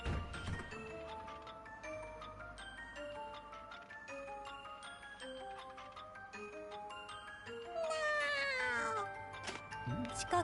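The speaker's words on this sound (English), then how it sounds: "That's just someone going meow." Cat meowing in the game Atelier Rorona, a series of tonal meows and drawn-out caterwauls over soft ticking game music, with a louder, rising cry near the end.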